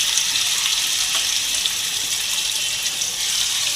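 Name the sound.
katla fish frying in a pan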